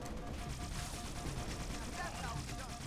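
Continuous rattling gunfire from the top-down shooter Halo: Spartan Assault, dense and steady through the whole stretch, faint in level and mixed with other game sounds.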